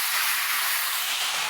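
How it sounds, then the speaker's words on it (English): Italian red wine, a Montalcino, being poured into a hot pan of chicken cacciatore. The liquid hits the pan with a loud, steady hiss and sizzle of steam that lasts through the whole clip. "Then we're going to add in about a cup of our Italian red wine."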